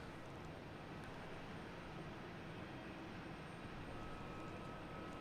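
A FedEx Airbus A300 cargo plane at Boston Logan International Airport, a steady, distant engine roar holding evenly throughout, with no voices.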